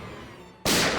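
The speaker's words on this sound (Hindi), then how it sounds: "गोली चली अंदर।" A single sharp gunshot cracks indoors, sudden and loud, cutting in after a quiet, low hum and leaving a dense burst of noise that carries to the end.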